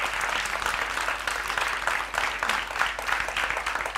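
Steady applause from a quiz-show audience for correct answers, a dense, even wash of clapping that holds at a constant level throughout with no voices over it.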